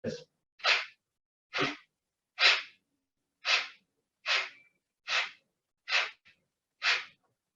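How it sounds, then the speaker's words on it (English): A series of eight sharp, forceful nasal exhalations in steady rhythm, the breath-of-fire breathwork technique, close and loud, with brief silent gaps between each puff. "Our next breath is going to be an energizing breath called breath of fire."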